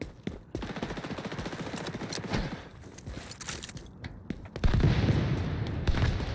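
Gunfire in the XDefiant video game: rapid automatic bursts and scattered shots rattle continuously, with a heavier, louder stretch of firing near the end.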